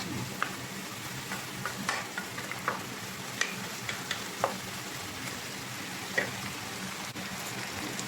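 Fried tofu and bitter gourd sizzle steadily in a pan, a continuous soft frying hiss broken by scattered pops and light spatters throughout, with no voices.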